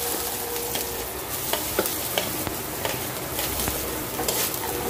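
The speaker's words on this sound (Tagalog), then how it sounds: "Haluluin lang po natin." Onions being stirred in a hot frying pan for tuna pasta, a steady close sizzle broken by scattered light scraping clicks of the spoon, with no voices.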